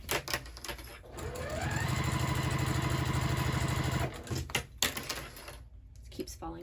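Sewing machine stitching a pillow seam at a half-inch allowance, a close, rapid rhythmic stitching run of a couple of seconds, with handling noises and some talk around it.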